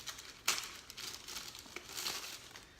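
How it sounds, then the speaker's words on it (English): Plastic packaging for Supreme stickers crinkles and crackles nearby as it is opened, with a sharp rustle early on and continued irregular crumpling, no talking. "Let's open up the stickers first"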